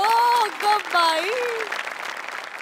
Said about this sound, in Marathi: कार्तिक, विश्वामित्री आणि श्रमेश दोघांसाठी खूप टाळ्या